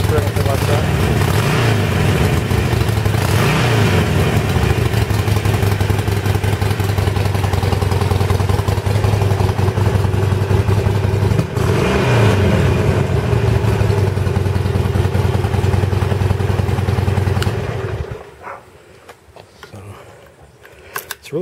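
A 2011 Harley-Davidson 1200 Nightster idles loud and close with a lumpy, rumbling beat and mechanical clatter, swelling a couple of times before the engine shuts off and falls quiet near the end.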